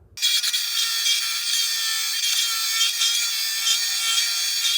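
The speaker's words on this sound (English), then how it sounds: "I'm gonna go ahead and I'm gonna start grinding this down" Glass grinder fitted with a small bit shaping a stained glass piece for a rooster lamp repair, a steady, harsh high-pitched abrasive grinding that runs continuously at close range.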